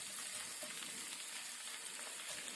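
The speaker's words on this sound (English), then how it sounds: "We do some smothered fried potatoes" Sliced potatoes and onion fry in shallow oil in a pan with a steady, even sizzle, close and continuous throughout, and no one speaks.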